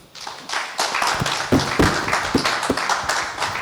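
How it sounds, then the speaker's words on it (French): A small audience clapping for performers at a musical group's 50th-anniversary celebration, uneven and fairly close, with a few sharp individual claps standing out over the crowd's patter. "que je vous prie d'applaudir"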